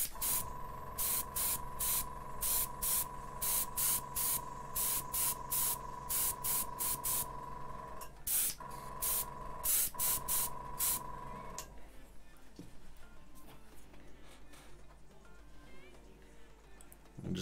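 An airbrush sprays paint in rapid, regular hissing bursts, stopping briefly around the middle before resuming, then giving way to quieter handling noise with no spraying.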